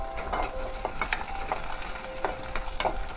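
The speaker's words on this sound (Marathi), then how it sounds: "कांदा लसूण आपलं चांगलं फ्राय झालं आहे" Onion and garlic frying in a pan, a steady close crackling sizzle with a few sharper stirring clicks scattered through it, background tones faintly underneath.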